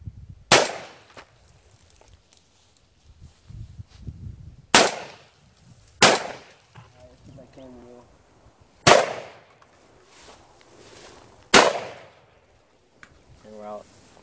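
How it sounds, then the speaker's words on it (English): A Browning A-5 Light Twelve semi-automatic shotgun fires at targets outdoors in five loud, sharp blasts spaced a few seconds apart. Each blast trails into a short echo, and quiet voices are heard between the shots. "We're gonna shoot. I'm not sure if we'll shoot all of it, but there's some targets set up."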